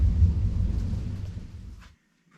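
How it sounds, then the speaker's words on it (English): A thunderstorm rolls in outdoors with a deep, heavy thunder rumble that fades away over about two seconds, then leaves near silence. "Wait for the thunderstorm to leave."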